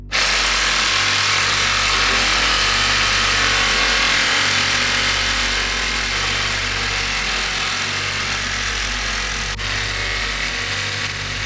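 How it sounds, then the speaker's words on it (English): A power saw cutting through a suspension arm bolt on a rebuilt Toyota Supra, a loud, constant harsh grinding whine that holds steady for over eleven seconds with slight dips in load. "we are even having to use a power saw to cut one of the bolts that holds on one of the suspension arms"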